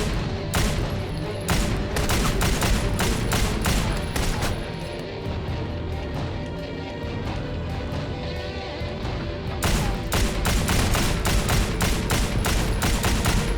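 Rapid bursts of gunfire from the 2009 Xbox 360 game Wanted: Weapons of Fate, loud and dense with sharp repeated shots, thinning in the middle before heavy bursts return near the end.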